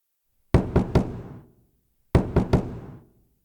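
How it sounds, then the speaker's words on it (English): Someone pounds on a cowshed door in two quick bursts of three sharp knocks, with a short pause between them. The knocks are close and loud, and nothing else is heard. "That door's about to break from your knocking."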